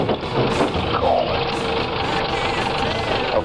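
A Chevrolet Blazer with a Venture 4500 transmission pulls slowly in first gear, its engine droning steadily and close with a rough, constant tone and no talk.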